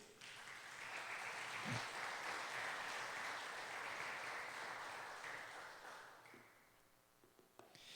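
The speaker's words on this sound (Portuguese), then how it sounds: "Vamos aplaudir o Senhor por isso?" A church congregation applauds for several seconds, a broad, steady wash of clapping heard at a distance that thins out toward the end.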